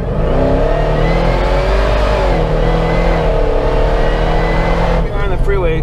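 A supercharged LT4 V8 in a Jeep Wrangler Rubicon pulls hard under acceleration, a loud, close, rising engine roar with a deep rumble that holds for several seconds while someone talks over it.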